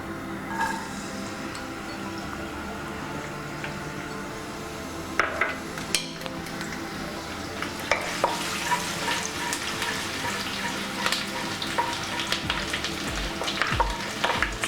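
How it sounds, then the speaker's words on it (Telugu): Small pieces of chopped ginger and garlic sizzle steadily in a hot pan for masala pulao, with close-up frying hiss throughout and occasional stirring clatter and bumps from the utensil. "ముందుగా అల్లం వెల్లుల్లిపాయలు వేసుకుందాం."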